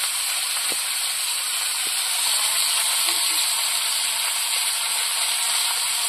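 Potatoes fry in a pan with green chili, salt and turmeric. A steady, even sizzle runs throughout, with a few soft, faint clinks and stirring touches along the way.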